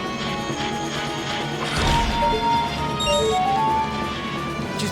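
A frozen enemy shatters in the Ocarina of Time video game with a sudden loud crash, followed by bright ringing, tinkling tones over a steady busy game soundtrack, with no talking.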